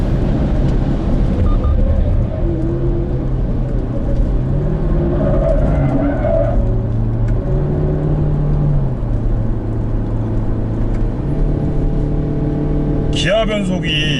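A BMW X3 20d SUV on a race circuit brakes into a corner, its engine and road noise droning steadily and loud inside the cabin while someone talks over it.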